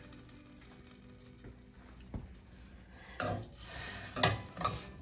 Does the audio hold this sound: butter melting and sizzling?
yes